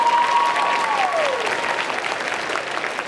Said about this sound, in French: Je voudrais un tonnerre d'applaudissements pour toutes ces personnes